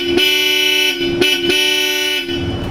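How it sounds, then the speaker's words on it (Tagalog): Bosch Europa horns fitted to a Toyota Hilux blare loud and close in a steady dual-tone blast, broken by a few brief gaps into repeated honks over about three seconds. "Parinig ko sa iyo kung gaano kalakas ang horn na to."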